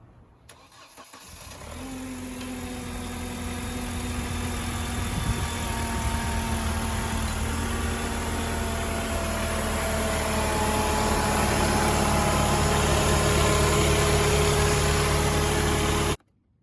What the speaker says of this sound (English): So now we're about to spin our engine